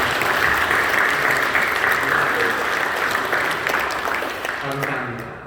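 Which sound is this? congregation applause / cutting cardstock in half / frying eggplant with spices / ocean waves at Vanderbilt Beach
congregation applause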